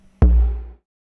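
A single short percussive beat sample, a deep booming hit with a sharp attack that decays quickly into silence, played alone once.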